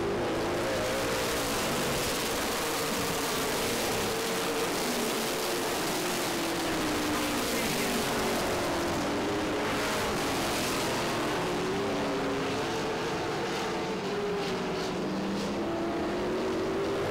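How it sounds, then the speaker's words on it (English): Race cars at Baer Field Motorsports Park lapping a short oval, a continuous roar of several engines with rising and falling pitch as the pack circles, loud and sustained throughout. "He gets around Cook on the inside."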